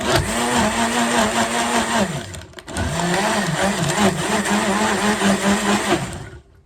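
A kitchen blender whirs loudly as it crushes leftover ice chunks in an oatmeal shake, running in two bursts with a brief pause between them and a rattling, churning motor tone.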